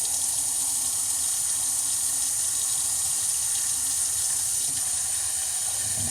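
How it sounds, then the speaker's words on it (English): Hot water streams steadily from a tap through a stainless steel hookah part being rinsed clean, a constant close rushing splash that runs unbroken with no talk. "rinse hot water through."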